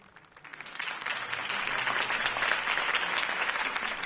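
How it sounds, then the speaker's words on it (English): A video game crowd bursts into applause that builds quickly and holds steady, a dense wash of clapping with faint cheering mixed in. "could have heard that applause"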